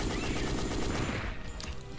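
Gunfire from the Dino Crisis 2 video game, a dense burst of shots rattling steadily through the whole moment at close, loud level, with no voices over it.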